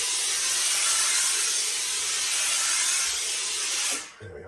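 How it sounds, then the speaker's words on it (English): A steady, loud hiss of steam plays over a black Lock & Co felt fedora set on a brim block, lasting about four seconds before cutting off abruptly, with no talking. "And let's just put a very small amount of steam over it."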